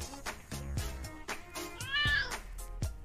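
Cat meowing inside the Bratz PC video game, a cat in heat sounding a few loud, drawn-out meows spread across the moment, over game background noise.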